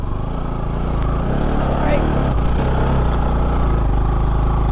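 A motorcycle engine labours up a steep uphill road on a mountain ride, a steady close drone running beneath continuous talk from the riders.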